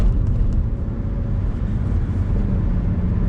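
An Alfa Romeo 147 Lusso petrol small car running, a steady low engine drone and road rumble heard from inside, constant and fairly loud with no talk.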